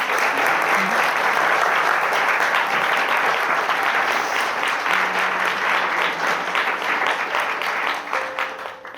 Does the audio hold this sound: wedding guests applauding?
yes